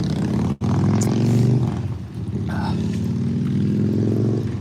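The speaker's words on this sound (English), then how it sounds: "My boss on his motorcycle." A motorcycle engine growls close by with a loud, steady, throbbing rumble that holds for several seconds, cutting out for an instant early on before the deep drone resumes.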